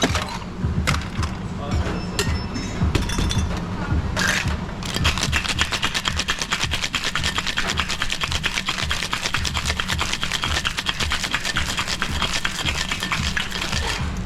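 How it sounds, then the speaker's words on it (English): A cocktail shaker packed with ice and mint is shaken hard for an Eastside cocktail, with rapid, dense rattling of ice running steadily for about ten seconds after a few scattered knocks and handling sounds. "And now let's add ice and shake."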